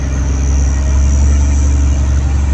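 Four-wheel drive vehicle climbing a sandy track on Fraser Island, a steady loud engine drone with deep low rumble and a faint high whine, close and continuous, no talk.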